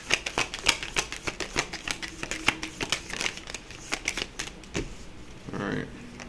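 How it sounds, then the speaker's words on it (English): A deck of cards being shuffled gives a rapid run of crisp clicks and riffling flicks up close, thinning out toward the end and finishing with a short soft rustle. "Let's just do one shuffle."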